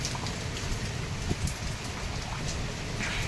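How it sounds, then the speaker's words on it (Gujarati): Steady rain pours down with a constant hiss and rumble of wind, a dense, unbroken wash of noise with a few scattered drops standing out. "બે તંદીથી આમને આમ જ હાલે, વરસાદ ને પવન ને બધું ભેગું છે"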